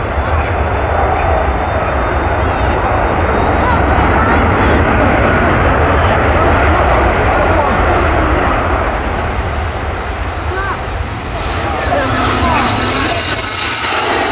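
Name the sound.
Airbus A330 jet aircraft at Manchester Airport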